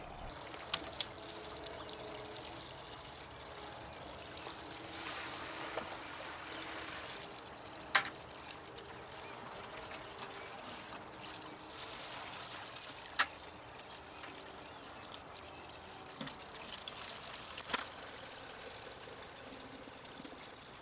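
Spring water pours steadily from a pipe in the woods, a continuous close trickling rush with a few small knocks and clicks over it and no talk.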